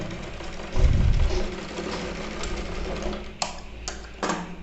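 A sewing machine runs a lock stitch during a tailoring lesson, giving a close mechanical whir with a louder burst early on, followed by a few sharp clicks.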